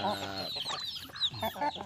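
Chickens clucking while being hand-fed in the morning, a close, busy run of short clucks and squawks overlapping at an irregular pace.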